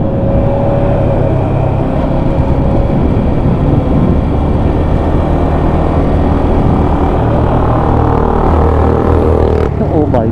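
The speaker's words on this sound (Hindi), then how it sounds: "हेलीकॉप्टर" A loud, steady helicopter drone fills the whole stretch, a constant roaring engine and rotor noise that stays close and unbroken.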